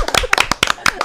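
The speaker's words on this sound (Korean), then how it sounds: "이거 진짜 박수 한번 쳐주세요." An audience at a talk on communication claps briefly, with a short burst of sharp, close hand claps.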